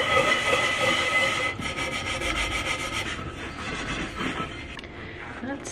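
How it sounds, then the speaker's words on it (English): A stain is scrubbed by hand: close, steady, rhythmic rubbing and scraping strokes that continue throughout with no break. "I'm just gonna scrub it and hopefully this works"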